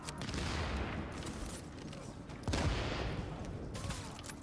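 Rapid gunfire in the game The Division, a dense burst of shots with a heavier blast midway, loud and close and fairly continuous, with only faint voices in the background.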